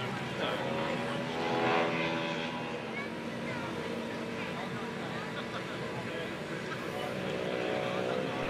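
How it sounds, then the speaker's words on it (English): A scale Blériot model monoplane, an unusual prototype with ailerons instead of wing warping, flies at a model airshow, its steady engine drone holding throughout at moderate distance beneath crowd murmur and a commentator's voice. "we got to see this gorgeous Blériot model"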